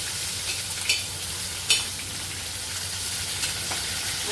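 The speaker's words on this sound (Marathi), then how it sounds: "छान भाजून घ्यायचं याला सगळ्याला।" A pan of chana dal, garlic and spices being roasted, giving a continuous soft sizzle broken by a couple of quick spatula scrapes against the metal.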